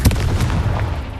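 A Confringo blasting spell explodes in Hogwarts Legacy, a loud, deep booming blast with a sharp onset that rumbles on for about a second.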